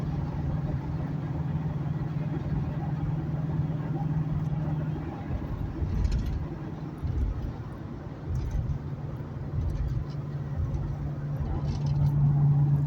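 A 2000 Ford Expedition hauling a load of large firewood rounds gives a steady, close engine and road drone with tyre rumble that holds evenly throughout, with no talk over it.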